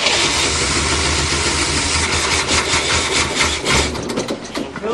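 A 1967 Cadillac engine cranked on the starter, a loud, steady churning grind with rhythmic pulses, sputtering unevenly near the end without settling into a clear idle.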